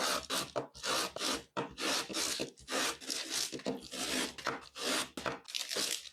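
An orange being lightly scraped for zest, a steady run of short dry rasping strokes up close, repeated in quick bursts with brief pauses and no talking.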